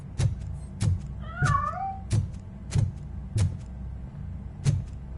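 Cat meows in the video game Robocop Rogue City: one drawn-out, wavering meow rising and falling, heard over a steady run of regular heavy footsteps thudding about every half second, no talking.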